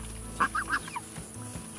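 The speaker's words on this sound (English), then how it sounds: "Ducks." Farm ducks give a few quick, nasal honking quacks close by, three bursts in a row followed by softer calls, during feeding time.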